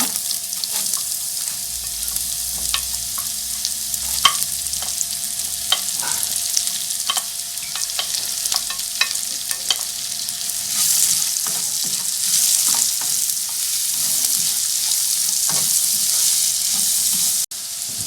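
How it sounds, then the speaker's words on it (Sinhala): Oil sizzles steadily as food fries toward golden brown for chicken fried rice, with carrots tossed in; a dense, continuous crackle runs throughout, punctuated by sharper pops and stirring clatter, close and moderately loud, with no voices. "දැන් මෙලෙස රන්වන් පාට වෙනතුරු බැදගෙන එන විට කැරට් ටික එකතු කරගන්න."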